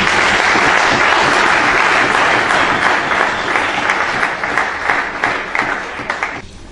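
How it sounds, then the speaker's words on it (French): Loud, sustained applause from a large audience, dense clapping that thins slightly toward the end before stopping abruptly. "Les applaudir s'il vous plaît."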